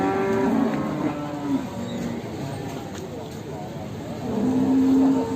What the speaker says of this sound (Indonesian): Sapi limosin teman-teman.